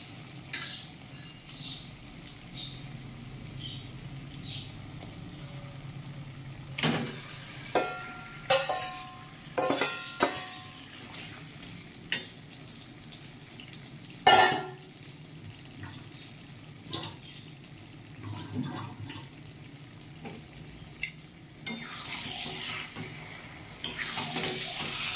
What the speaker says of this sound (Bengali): এবার ম্যারিনেট করে রাখা মাংসটা এবার আস্তে আস্তে দিয়ে দেবো